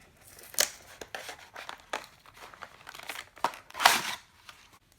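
Packaging for a nail foundation, top coat and cuticle oil set is torn open by its tab, giving a few sharp rips and crinkles with scattered rustling between them, close and clear with no talk.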